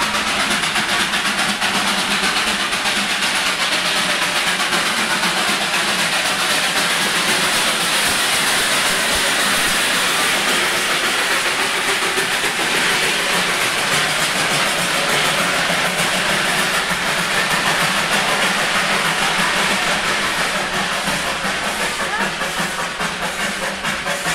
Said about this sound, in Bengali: আর ঠিক তার উল্টো দিক দিয়ে দেখুন টয় ট্রেন আসছে।